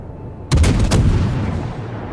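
Naval guns firing in the World of Warships video game, a sudden heavy boom of a salvo followed by a long rumbling roll that slowly fades, loud and close with no talk.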